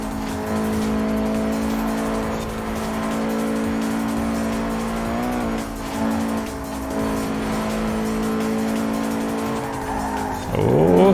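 A VW Scirocco drives in Forza Horizon 4, its engine holding a steady, droning tone throughout, with a sharp tire squeal rising near the end.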